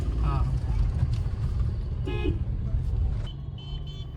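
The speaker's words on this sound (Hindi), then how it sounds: "बाहर रोड पे काफ़ी ज़्यादा ट्रैफिक यहाँ पर स्टक हो गया है" Congested road traffic just outside the Grishneshwar Jyotirling temple in Maharashtra, with a steady engine rumble broken by several car horn toots. People talk nearby over the noise.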